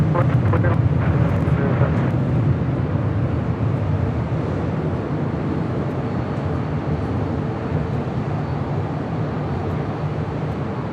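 A heavy Boeing 747 jet rolling out after landing on runway 24 right at Los Angeles International Airport, a loud, steady roar of engines and airflow that stays constant from start to finish.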